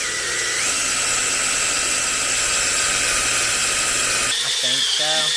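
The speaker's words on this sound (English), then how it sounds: "I'm going to go ahead and drill our grease hole through it" A power drill whines steadily at high pitch for several seconds drilling a grease hole through a steel cylinder eye, then cuts out as a brief clatter and voice follow.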